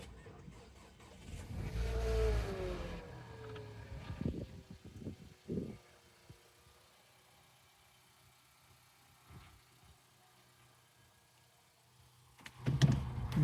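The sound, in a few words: Nissan Qashqai car engine running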